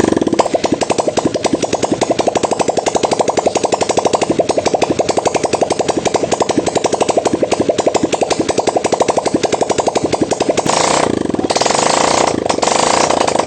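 A small engine runs without its exhaust pipe, a loud, fast, rattling put-put with rapid even pulses that lasts nearly the whole time, then cuts off near the end into a few short, irregular noises.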